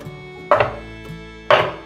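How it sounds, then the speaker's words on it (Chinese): A kitchen knife chops peeled potatoes into chunks on a cutting board, two sharp, evenly spaced chops about a second apart, close and clear with no talking. "把马铃薯切成块状"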